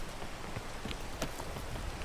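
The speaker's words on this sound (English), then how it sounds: "The rain is not very nice, but maybe we can climb through it." Steady rain falls in the climbing video game PEAK, a dense patter of drops hitting surfaces with a few sharper splashes standing out, continuous throughout with no voices.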